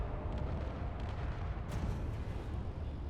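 Battleship cannons firing in a Space Engineers battle, a dense, continuous low rumble of booms and blasts with a sharper burst midway, fairly faint and distant-sounding, with no talking.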